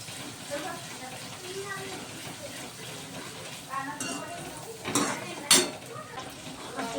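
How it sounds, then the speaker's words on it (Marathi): Garlic and cumin paste goes into a pan with onions and is stirred, with faint sizzling, a spoon clinking against the metal and a couple of sharper scrapes while someone talks over it. "त्यानंतर टाकू आपण लसण आणि जिऱ्याची पेस्ट"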